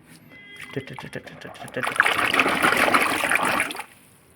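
Floodwater trickling and splashing, rising to a steady broad rush for a couple of seconds before stopping abruptly, with someone talking over the earlier part.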